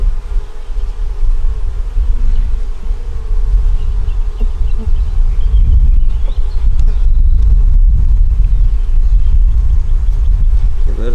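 Honey bees buzz loudly and continuously around an open hive during an inspection, a dense steady drone close to the microphone.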